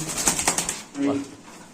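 Racer pigeons give a brief, low, throaty coo up close, following a burst of nearby chatter-like noise.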